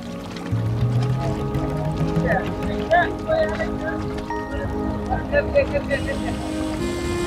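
A steady low engine drone runs throughout, like a motorboat chugging on open water, from an engine-powered boat on the Jamuna River in Sirajganj, Bangladesh, with voices talking over it.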